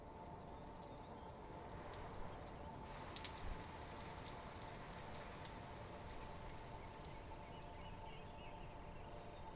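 Rain in the Mr. Prepper survival game, a continuous close patter of drops on surfaces. It carries a faint cricket-like chirping underneath and a few louder drips standing out along the way.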